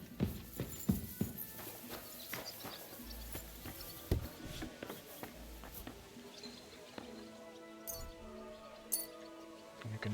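Hoof clip-clops of a horse and scattered clicks over a busy background of Kingdom Come: Deliverance II game ambience, with faint voices mixed in.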